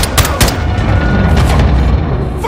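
Call of Duty Modern Warfare 2 combat: a loud rocket-propelled grenade blast booms amid rapid, close gunfire cracks, with a continuous roar of battle underneath.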